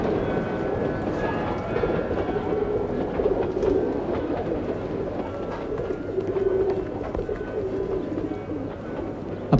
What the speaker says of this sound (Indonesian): Teman-teman saya hanya burung-burung merpati.